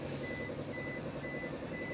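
A repeating electronic warning beep sounds at the doors of a vehicle, short regular tones about twice a second over a steady engine hum, with no talking.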